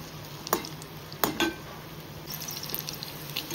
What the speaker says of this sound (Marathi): मंद आचेवर आपण भजी तळून घेऊ